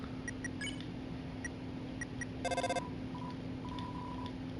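Electronic phone-call beeps and a short burst of dialing tones in the game Undertale, with scattered soft blips over a steady low hum; no one speaks.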